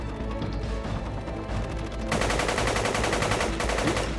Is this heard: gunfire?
yes